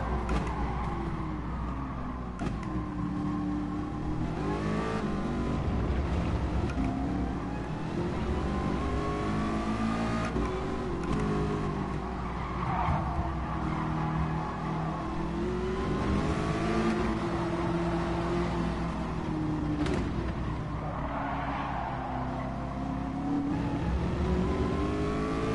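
A Ford GT race car engine in Gran Turismo Sport, loud and continuous, revving up and down through gear changes amid traffic for the whole stretch, with no talk.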